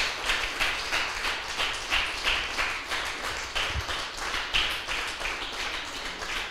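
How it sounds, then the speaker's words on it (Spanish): A church congregation claps in a steady rhythmic beat, moderately loud and evenly paced, like clapping along in unison during a Spanish-language service. "Denle un fuerte aplauso una vez más al Señor,"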